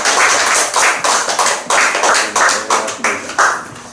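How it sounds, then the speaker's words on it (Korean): Audience in a Buddhist dharma hall clapping in applause, a dense continuous burst of hand claps swelling in waves, loud and close, with no talk. "여러분 우리 이 3분께는 정말 우리가 고마운 마음으로 박수 한번 쳐드리겠습니다"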